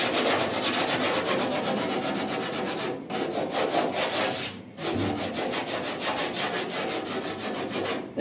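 A round block with 36 grit paper sands body filler on a 1966 Ford F100 dash, giving loud, rapid back-and-forth scraping strokes in continuous runs, with two brief pauses and no talk.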